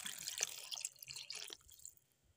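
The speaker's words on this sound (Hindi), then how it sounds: "दो कप पानी डालेंगे" Water poured into a pot of brinjal and potato pieces in a home kitchen, splashing and dripping quietly for about two seconds before tapering off to near silence.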